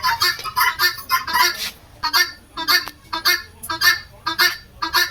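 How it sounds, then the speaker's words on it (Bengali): Guinea fowl at a zoo give loud, harsh honking calls in quick repeated bursts, close by and continuous, with almost no talk. "আর এখানে কিছু তেতারা মুরগি আছে"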